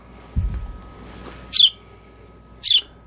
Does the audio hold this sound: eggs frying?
no